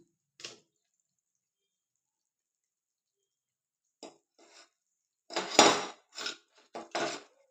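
Green chilli and tomato chutney being scraped and dropped into a metal pan, heard as a few separate clattering knocks that end in a louder burst of clinks and scrapes, with long silent gaps before them.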